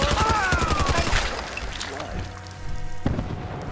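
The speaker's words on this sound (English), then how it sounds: "I'm hearing more gunshots." Gunshots and rattling automatic fire in Fallout 4 echo at moderate distance, with a booming hit near the end and some electronic tones in the background.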